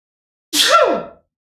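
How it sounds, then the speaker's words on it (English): A single short sneeze, close and fairly loud, a sharp burst lasting about half a second that trails off quickly, with silence on either side. "Hold on, I gotta sneeze."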